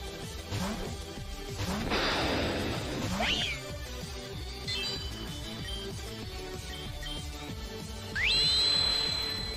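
A Meowstic's cry in the video game Pokémon Reborn, a short electronic cat-like meow with whistling tones, rising near the end, over busy game music.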